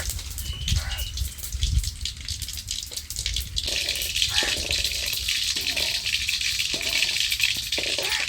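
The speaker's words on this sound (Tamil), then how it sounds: "கடுகு நல்லா பொரிஞ்சிருச்சு." Mustard seeds splutter and pop in hot oil for a village-style mango pachadi, a dense, continuous crackle lasting throughout with occasional louder bursts.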